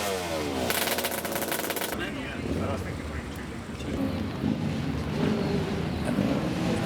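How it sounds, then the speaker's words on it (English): A small Kawasaki two-stroke motorcycle at a street race crackles past with a rapid, rattling burst of exhaust, then a dense, busy mix of engine noise and crowd sound follows at moderate level. "This is a nice little Kawasaki 2-stroke."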